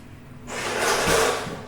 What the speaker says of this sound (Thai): แล้วก็ปิดประตูเข้ามา